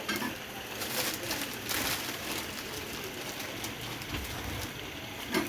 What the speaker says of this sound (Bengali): এই তো উল্টিয়ে পাল্টিয়ে পাউরুটিগুলো ভেজে নিলাম।